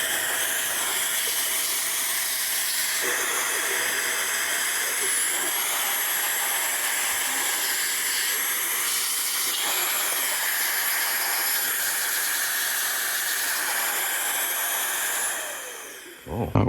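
A rechargeable three-speed Roedix electric air duster with a 6000mAh battery blows a steady, loud, airy hiss on its lowest setting, running unbroken for about sixteen seconds before cutting off, close to the listener.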